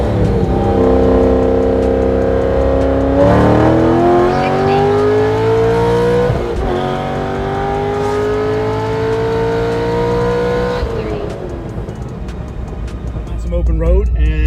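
A Chevrolet Corvette C6 Z06 with an RPM heads-and-cam package, stock intake and throttle body on pump gas pulls hard through the gears on an open road at night, its V8 roar climbing in pitch with shift breaks, loud and close throughout.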